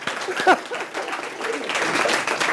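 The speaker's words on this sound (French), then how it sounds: "mais même, ça vaut une main d'applaudissement." A French-speaking audience at a talk breaks into applause, a short burst of crowd clapping that builds over scattered voices and a brief exclamation near the start.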